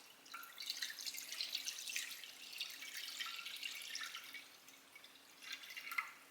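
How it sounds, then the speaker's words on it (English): Lemon ice mixture poured into a dish, a soft continuous trickling and dripping, close and quiet, with a slightly louder splash near the end. "We're gonna pour it in."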